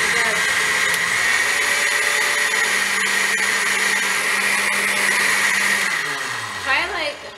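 Cake batter whirring in a blender, a loud, steady motor whine that runs evenly for several seconds, then spins down with a falling pitch and stops.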